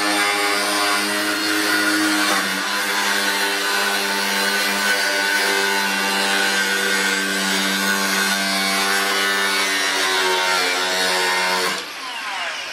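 Power tool cutting through part of a car's front bumper, a loud steady whining buzz for about twelve seconds that drops off near the end.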